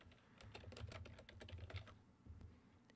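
Quiet, close typing on a computer keyboard during Excel data entry: a quick run of soft clicking keystrokes in uneven bursts, with a brief pause near the end.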